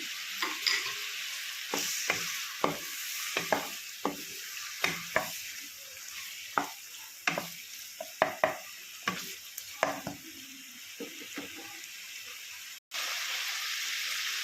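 Cumin and garlic sizzle in a hot pan for a village-style coconut gongura raw prawn curry, a constant frying hiss broken by many sharp spatula scrapes and taps, close and loud, with no voices.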